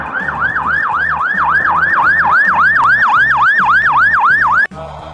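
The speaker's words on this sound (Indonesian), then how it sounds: "Wah, kita menemukan mobil pemadam kebakaran." A fire truck siren wails in a fast, steady up-and-down sweep, loud and close, repeating about a dozen cycles before it cuts off abruptly near the end.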